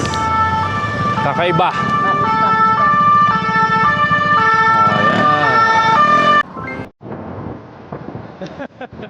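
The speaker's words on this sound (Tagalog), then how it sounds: "Has a typical French police noise." A French police siren wails loud and close on a Paris street, its rising and falling tones sounding over traffic for several seconds before cutting off abruptly. Voices talk over it and afterward.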